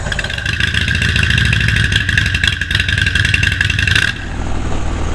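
Motorcycle engine idling while warming up on a cold day, a loud steady mechanical chatter with a constant pulsing beat, easing slightly near the end.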